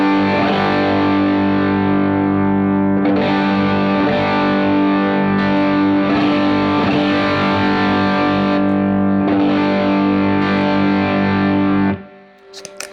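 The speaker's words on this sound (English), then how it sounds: "I think we'll start with the drive boost, show you what more gain is like" Electric guitar through a Fender Santa Ana Overdrive pedal on its drive boost setting. A thick, loud, sustained distorted chord rings steadily for about twelve seconds, then cuts off with a few brief noises at the end.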